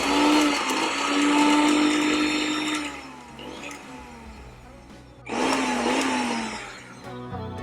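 A kitchen mixer grinder whirs loudly as it crushes ginger and garlic, running in a steady high-pitched drone, pausing and slowing briefly, then spinning up again for a second burst.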